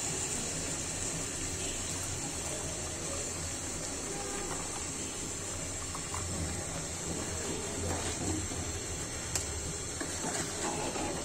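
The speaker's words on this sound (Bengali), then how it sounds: "গরম পানি দিয়ে দিচ্ছে" Hot water is poured into a pot of chicken curry cooked with ash gourd, giving a steady, continuous gush and splash at close range with no speech over it.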